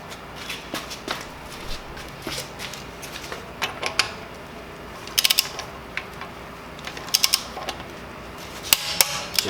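A socket wrench ratchets a wheel lock tight on a Tesla Model Y, giving quiet clicking strokes that end in a few louder metallic snaps and clacks, close up with no talk.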